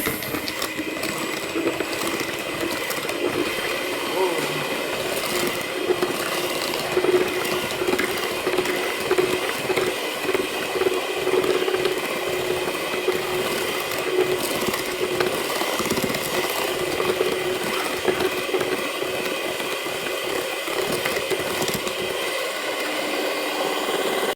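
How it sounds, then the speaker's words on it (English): An electric mixer beats eggs, butter and sugar for chocolate chip cookie dough, a steady whirring drone with rattling mechanical texture running continuously and close throughout, with no voices. "this is my first time using my mixer"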